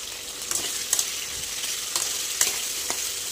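Potato pieces fry in a pan until reddish, giving a steady, close hiss of hot oil with a few soft stirring clicks and scrapes over about three seconds.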